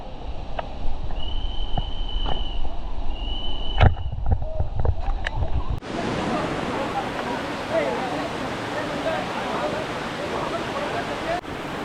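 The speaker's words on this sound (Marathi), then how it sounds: "आपण एक वॉटरफॉलच्या इथे येऊन पोहोचलो आहेत" A waterfall near caves in the Ulhas river area, heard first faintly under someone talking, then as a loud steady rushing roar of falling water filling the last half alone.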